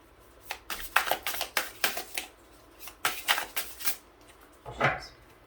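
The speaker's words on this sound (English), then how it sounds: "I'm going to shuffle the cards" Tarot cards being shuffled by hand, heard as close rhythmic riffles and slaps in two quick runs of about six strokes each, then a final softer shuffle.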